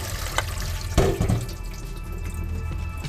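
Tap water runs steadily into a sink while meat for Kapampangan-style batchoy is rinsed until the water runs clear, a continuous close splashing with a brief louder surge near the start.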